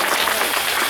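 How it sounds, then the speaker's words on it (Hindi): Audience applause at a theatre play staged at a national theatre festival, a dense, steady wash of many hands clapping close and loud throughout. "उनके लिए भी जोरदार तालियां बजाएं"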